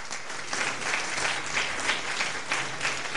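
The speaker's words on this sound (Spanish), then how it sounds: "Denle un aplauso al Señor." A large church congregation claps in sustained applause, a dense steady roar of hands that swells slightly in waves.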